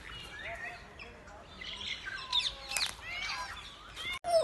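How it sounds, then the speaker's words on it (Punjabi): White chukar partridges in an aviary cage at a wildlife park give a series of faint chirps and calls, overlapping and uneven, against quiet background. "ਇਹ ਵਾਈਟ ਕਲਰ ਦੀ ਚਕੋਰਾਂ ਵਾ"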